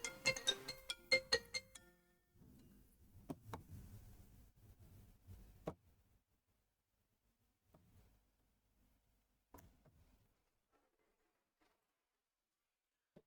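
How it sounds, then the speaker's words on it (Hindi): A phone ringtone for an incoming call buzzes and chimes in rapid repeating bursts for the first few seconds, then gives way to faint scattered clicks and brief tones against quiet, with no speech. "फोन आ गया था, सॉरी फॉर डिस्टर्बेंस।"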